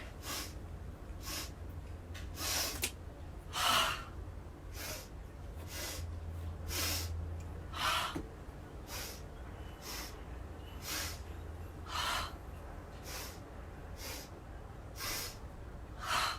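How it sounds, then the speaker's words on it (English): Children take deep, audible breaths in unison during a kids' yoga session while standing in mountain pose, with soft whooshing inhales repeating roughly once a second over a faint low hum. "Breathe in."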